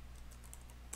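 Quick taps on a computer keyboard, a short run of light clicks close by in a quiet room, with one slightly sharper keystroke near the end.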